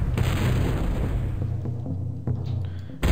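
Cannon fire in the medieval fantasy strategy game Total Annihilation: Kingdoms: a steady barrage of low, booming blasts and thuds runs throughout, with a few sharper pops near the end and no talk.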